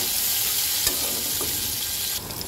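Chopped onion and green chili sizzle steadily in hot oil in a pan, a constant close hiss with a soft stir or two and no talk.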